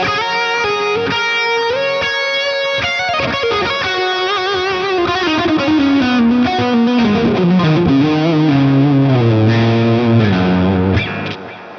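An electric guitar plays a lead line with a rich blues lead tone from the second channel of the Mercuriall Euphoria amp plugin, distorted with a chorus-like shimmer, singing sustained notes and bends loudly and alone before cutting off at the end.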